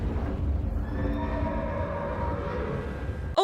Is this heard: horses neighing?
yes